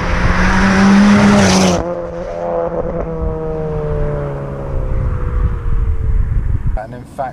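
Hendy Performance HP500 Ford Focus RS, a 520 bhp tuned hatchback, accelerating hard: a loud engine note rising steadily in pitch through a gear, with a shift change early on, heard from inside with some wind and road noise.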